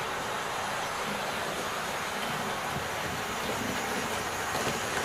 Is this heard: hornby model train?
yes